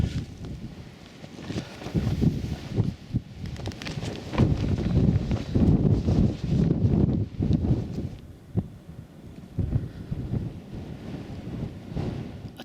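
Strong wind buffeting a microphone at a wild camp on Rannerdale Knotts, low rumbling gusts that rise and fall in heavy surges over several seconds, with no voices.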